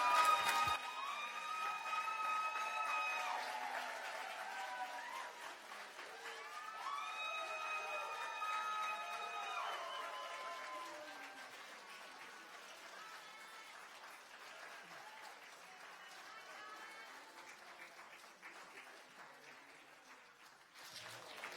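An audience at a 2017 Renaissance Learning Academy graduation ceremony claps long and loud, with cheers and whoops rising over the applause before it slowly fades.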